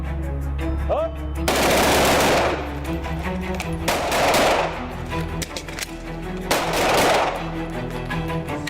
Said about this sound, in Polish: Postrzelamy piątkę i tripletami z broni krótkiej z wymianą z magazynka